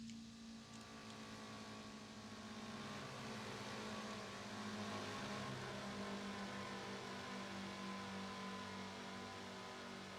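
A car's engine drones and whirs steadily in the driving game Wrench, holding a mid-pitched, fairly quiet tone that rises gently partway through as it drives around, with no talking.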